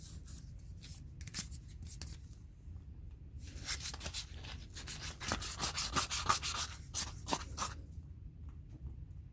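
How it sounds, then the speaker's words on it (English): Sanding a PVC pipe by hand with 120 grit sandpaper: close, raspy rubbing strokes, sparse and intermittent at first, then a faster run of rhythmic scrapes, with no talking. "We're going to sand it out."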